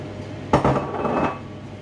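Smoked mackerel stirred into thick bean paste in a pot, with a sharp metallic clank of the spoon against the pot followed by a brief scraping stir, close and fairly loud.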